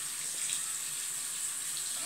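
Water running from a tap during handwashing, a steady soft hiss of flowing water with no breaks, heard alone and fairly faint throughout.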